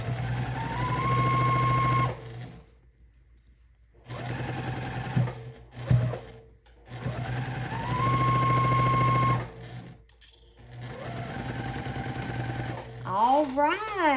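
Domestic sewing machine stitching a quilt in loud, fast bursts of a few seconds each, separated by pauses, with a short high whine near the end.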